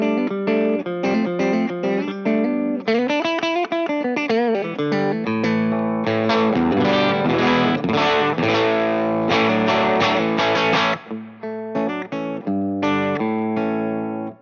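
An electric guitar runs through a Catalinbread Formula 51 overdrive pedal, styled as a tweed Champ amp in a box, playing a compressed, mid-heavy riff of chords and single notes, loud and alone.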